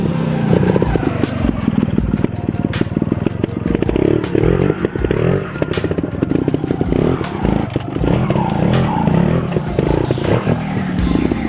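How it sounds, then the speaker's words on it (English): A trial motorcycle engine putters and revs in short bursts close by, with clattering and scraping of the bike over rough ground. "Francesc Moret is recreating the situation of a motorcycle that is no longer moving forward in the direction of the course."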